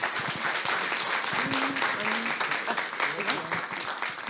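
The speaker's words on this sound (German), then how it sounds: "Einmal Applaus für Inga, bitte." An audience applauds to welcome a speaker onto the stage at a German talk on abortion and digital topics, with steady dense clapping throughout and some voices calling out over it.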